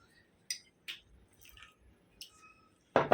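Semolina with sugar and cardamom powder is mixed with a little water, giving faint, sparse wet squishes and light scrapes in a quiet kitchen, ending in a louder squelching stir.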